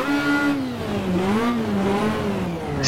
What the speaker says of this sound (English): Ferrari by far the best sounding car here in the